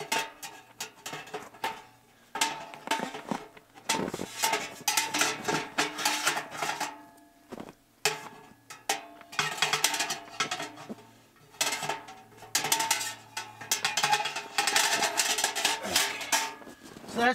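Metal ash pan for a GStove tent stove scraping, clinking and rattling as it is fitted inside the stove in a canvas wall tent, a close series of irregular metallic knocks and rubs with short pauses.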